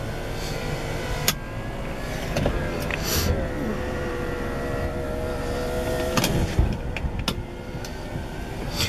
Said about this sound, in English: Windows go down. This one's automatic.